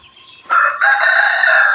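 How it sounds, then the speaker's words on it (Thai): A rooster crows loudly and close at a Thai temple grounds where many chickens gather, with a single sustained cock-a-doodle-doo rising after a softer opening cluck. "เห็นไก่มารอตรงนี้เต็มเลยเนาะ"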